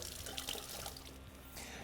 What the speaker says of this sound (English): Let's give it a little wash with cold water.